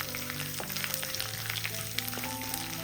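Mustard seeds, chana dal and curry leaves frying in hot oil, a steady close sizzle with light crackles and stirring throughout.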